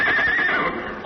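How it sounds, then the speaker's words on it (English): A horse neighing in one loud, close whinny with a high wavering pitch that trails off. "You got horses hidden back in the woods"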